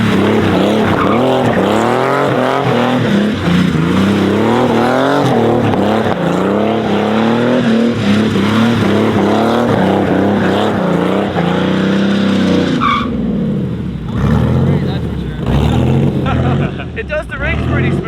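A wide-body Porsche does donuts, with the engine roaring loud and close as the revs rise and fall across repeated circles and tyres squeal. Voices talk over it near the end.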